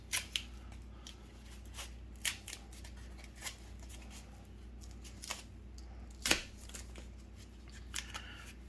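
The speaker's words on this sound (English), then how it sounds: "Cutting off the excess." Scissors snipping off excess craft foam while shaping a pommel: quiet, close, irregular sharp cuts and rustles spaced a second or so apart over a soft background hiss.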